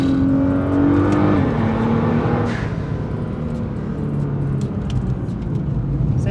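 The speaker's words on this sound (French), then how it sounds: "Le bruit des dump valves c'est..." A Nissan GT-R with 550 hp accelerating hard, its engine droning loudly with a rising pitch that drops at a gear change, and a brief turbo dump-valve whoosh in the middle.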